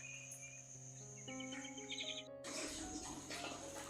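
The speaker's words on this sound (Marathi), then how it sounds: "पक्ष्यांचा आवाज बघा." Birds chirp in a home garden in the evening: several short, bright calls stand out near the middle, against a steady background hum, before a louder rush of noise takes over.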